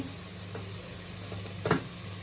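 Jackfruit seeds frying in a pan give a steady, quiet sizzle with a brief louder crackle near the end.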